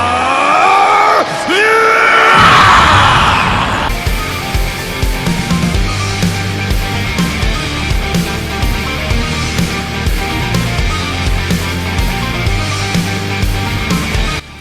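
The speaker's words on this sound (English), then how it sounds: "as Vegeta came and he went and screamed" Vegeta, the anime Saiyan, lets out a loud, sustained bellowing scream while transforming into a Super Saiyan, starting after a short burst and then carrying on with dramatic music and effects.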